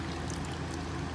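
Water pours from a pot of cooked vermicelli as it is drained, a close, steady, continuous splashing stream with no breaks. No one speaks.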